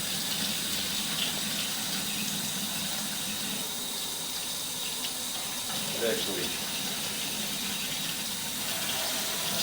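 Water runs steadily from a faucet inside a house, a close, even hiss and splash lasting throughout, with a person speaking briefly over it.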